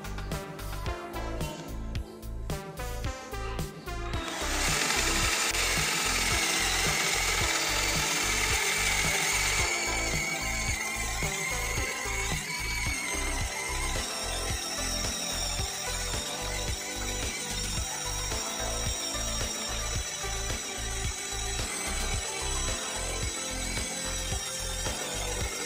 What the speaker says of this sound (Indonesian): saya menggunakan mata bor Forstner Bit ukuran 25 mm pada mode mengebor. Untuk medianya adalah papan kayu mahoni ketebalan 2 cm